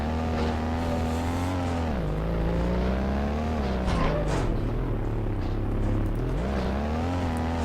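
Simulated car engine in BeamNG Drive holding a steady drone through a clutch spin turn, its pitch dipping then climbing back as revs change, loud and continuous with no talk.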